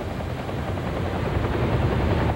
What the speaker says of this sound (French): Puis un autre hélicoptère est descendu.